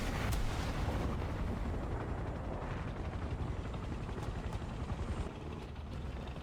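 A helicopter in a video game makes a steady, dense rotor drone with low rumble throughout, plus a few faint distant bursts.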